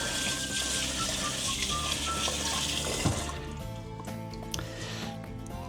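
Cold tap water runs steadily into a cooking pot in a home kitchen, a continuous close splashing rush for about three seconds that then eases to a quieter trickle.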